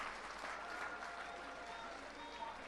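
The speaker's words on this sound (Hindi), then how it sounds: "एक बार जोरदार तालियों के साथ जज साहब का शुक्रिया अदा कर दीजिए" Crowd applause at a political rally at Jantar Mantar in Delhi, a steady faint wash of many hands clapping throughout, fairly distant with no break.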